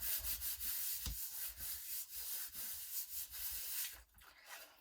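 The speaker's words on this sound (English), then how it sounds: "Turn that over and give it a good rub." A die-cut paper card piece rubbed firmly by hand, giving rapid rhythmic scratchy strokes, near and continuous, easing off toward the end, with no talking.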